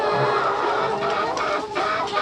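Chickens cluck and murmur together in a farm pen, a continuous close chorus of fowl calls with no talking.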